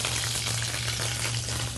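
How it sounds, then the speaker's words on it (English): Butter melting in a frying pan of olive and canola oil gives a steady, dense sizzle with a low hum beneath, constant and close throughout with no talking. "a good way to tell when your pan is ready for frying, once the butter breaks down and is melted"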